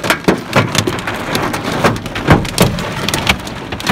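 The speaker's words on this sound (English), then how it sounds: "entire road full of hailstorm" Hailstones pelt a car's bonnet and glass on a Himalayan road, a dense rapid patter with sharper individual cracks of big ice pellets, loud and close throughout.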